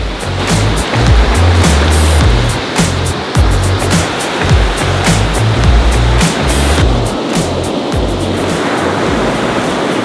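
Strong northeast wind roars over crashing, surging Baltic Sea waves off Rügen, loud and continuous, with gusty buffeting throughout.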